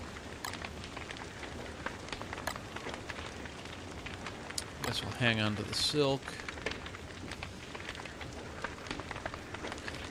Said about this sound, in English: Looks like the rain is letting up.